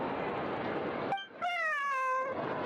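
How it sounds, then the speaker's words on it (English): A cat gives a single drawn-out, descending meow, clear and close, set between stretches of steady background noise. "The kitty is so cute."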